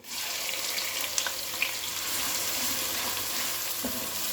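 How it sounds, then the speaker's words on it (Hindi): Whole spices sauté in hot oil in a pan for a restaurant-style Patiala chicken, giving a steady, close, loud sizzle with a couple of small pops and no talk. "अब इन सब होल स्पाइसेस को हम तेल में 10 सेकेंड के लिए सॉटे करेंगे ताकि इन सब का फ्लेवर तेल में आ जाए"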